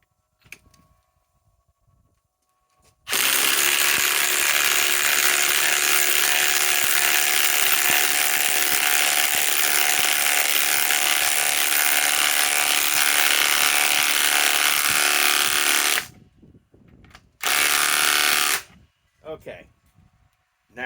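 A Ryobi PSBIW25 cordless impact wrench with a 15/16 socket runs in one long, loud, continuous burst of about thirteen seconds, then gives a shorter burst after a pause, with faint sounds in the quiet gaps.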